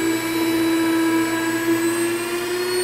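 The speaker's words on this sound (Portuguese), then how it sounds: "Agora volta para a batedeira e a gente vai bater só para incorporar." An electric stand mixer beating chocolate batter of melted chocolate, butter, eggs and sugar gives a steady, loud motor whine with a constant pitch, running close and uninterrupted without talk.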